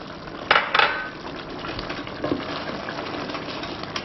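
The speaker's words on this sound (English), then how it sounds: "Give this a stir." Rendang with tamarind paste gets stirred in a cooking pot, two sharp metallic clinks of spoon on pot followed by quieter scraping and a faint simmer.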